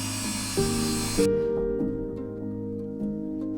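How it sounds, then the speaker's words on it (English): A table saw with its blade tilted to 45 degrees cuts miters in plywood for corner joints. A loud cutting whine stops abruptly, then the blade winds down with a fading hum. "I tilted the table saw blade to 45 degrees and then I started cutting the miters for the corner joints"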